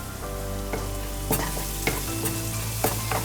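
Curry leaves fry in a pan with ginger garlic paste, turmeric and red chilli powder, a steady close sizzle broken by a few sharp scraping stirs of a spoon, no voices.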